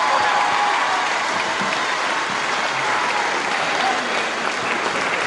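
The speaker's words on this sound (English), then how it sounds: "I'm going to ask you once again for a round of applause for a gallant wrestler, Alan Kelvin." Wrestling crowd in a hall giving a sustained round of applause for a wrestler, dense steady clapping throughout at a fairly loud level.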